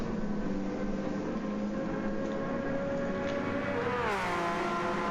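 A new Porsche race car in a racing video game holds a steady engine drone at a constant pitch, then rises in a sharp upshift-like sweep near the end, with no talking.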